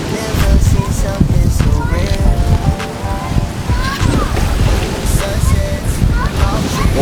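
Ocean surf and gusting wind on the North Shore, a steady broadband wash with wind buffeting the microphone throughout, loud and close, with faint voices mixed in.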